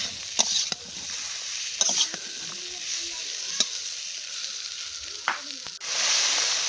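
Potatoes, peas and flat beans being stirred in a frying pan, with a steady sizzle and scattered scraping knocks of the spoon against the pan throughout, close and fairly quiet, no talk.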